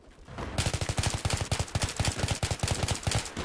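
Rapid automatic gunfire in a first-person shooter video game played with an ACOG sight, a loud, dense stream of evenly spaced shots rattling nonstop for several seconds.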